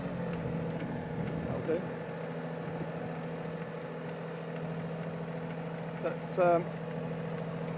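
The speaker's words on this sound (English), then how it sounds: "Let's give it a bit of throttle. Get those claws moving nice and quick." A weeding robot's engine idles steadily while its hydraulic claws run, a constant low drone lasting throughout, with someone talking over it and a brief higher whine near the end.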